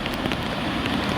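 Steady rain falls at night during a fishing outing, a dense, even patter of drops hitting surfaces close by, constant and fairly loud throughout the short stretch with no voices.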